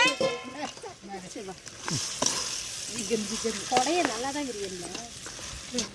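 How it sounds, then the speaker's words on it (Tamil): Chicken pieces and tomatoes frying and being stirred in a pan for a village-style chicken gravy, with a busy crackling sizzle and scraping under a person talking, plus faint animal bleats nearby. "பாத்தீங்கன்னா இப்ப சிக்கன் கொட்டிக்கலாம். கொட்டி நல்லா வதக்கிக்கோங்க."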